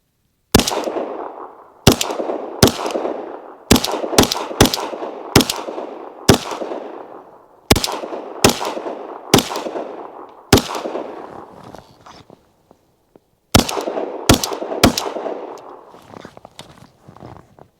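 Sharp pistol shots from an unsuppressed handgun on an SCT SC frame at a shooting range ring out in irregular bursts, loud and close, with a brief pause before a final quick string of rounds.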